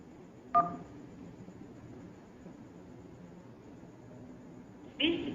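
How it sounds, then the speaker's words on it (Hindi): A telephone keypad tone sounds once as the 1 key is pressed on an automated bank phone line, a brief clear beep over low line hiss, followed later by the start of another tone. "जनरेट करने के लिए हमें यहाँ पर 1 डायल करना है।"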